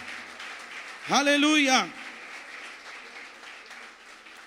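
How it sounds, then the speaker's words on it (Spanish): A church congregation applauds in a steady wash of clapping while one voice calls out loudly for a moment over it. "denle el mayor aplauso que pueda darle esta mañana"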